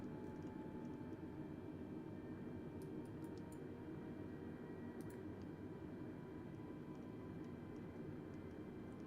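A Daher single-engine plane in Microsoft Flight Simulator, flying out of Houston, gives a quiet, steady engine drone with no change through the whole stretch and a few faint clicks on top.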